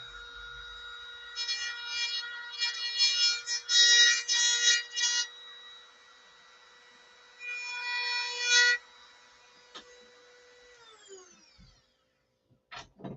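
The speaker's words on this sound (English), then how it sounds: "be very careful with the Dremel" Dremel rotary tool working on a SIG Magnum pistol, whining in short bursts separated by pauses, with a high motor tone that winds down near the end.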